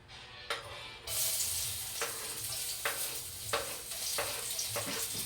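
Garlic and onion sizzle in a hot pan for chicken adobo, a steady loud frying hiss close up, with occasional stirring clicks and no talk.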